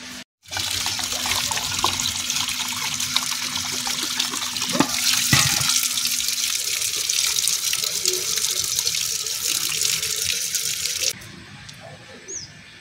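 Tap water runs steadily into a rooftop storage tank and household pots in an Indian village home, a continuous broadband gush that stops abruptly near the end, with a few faint clinks.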